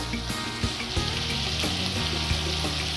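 Garlic ginger paste frying in a pan with a splash of water bubbles and sizzles close by, with a few soft knocks and stirring sounds over a steady hiss.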